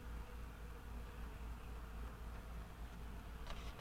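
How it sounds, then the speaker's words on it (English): A honeybee swarm on the move gives a dense, steady buzz that hangs over the whole stretch, with no breaks and no one talking. "There's definitely a swarm coming. It is definitely a swarm."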